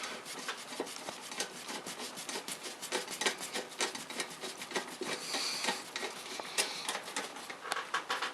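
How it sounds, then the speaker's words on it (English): Screws being tightened by hand while installing a ceiling fan, a steady run of close, dry scraping and rubbing strokes with faint clicks, continuing without voices. "I'm going to tighten up these screws here."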